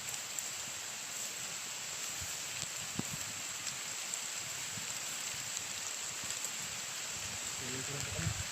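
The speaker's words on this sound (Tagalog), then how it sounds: "Biglang umulan. At habang malakas yung ulan." Steady rain falling outdoors during bad weather, a constant dense hiss with occasional drops and knocks, heard close and fairly even throughout.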